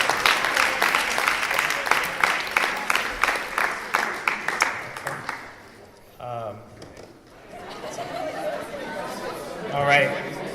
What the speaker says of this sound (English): Let's give a really warm round of applause for our 8 remaining finalists.